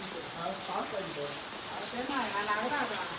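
Heavy monsoon rain pours steadily in a dense, hissing wash over a courtyard in the Konkan, with people talking under the downpour.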